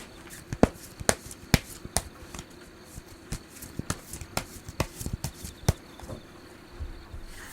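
Tarot cards being shuffled and drawn during a reading: a string of sharp card slaps and flicks at irregular intervals over a soft shuffling rustle, close and moderately loud, with no talking.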